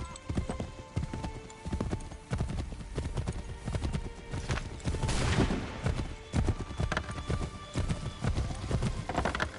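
Horse hooves clip-clop steadily through the Lexington streets in Assassin's Creed III, a loud galloping rhythm beneath dense game music and ambient effects.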